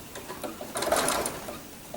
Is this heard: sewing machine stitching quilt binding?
yes